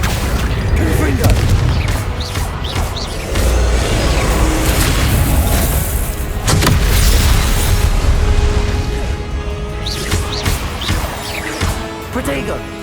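Confringo blasting-spell explosions in the video game Hogwarts Legacy, with loud, repeated booms and crashes over constant battle noise across the whole stretch, while voices talk and shout throughout.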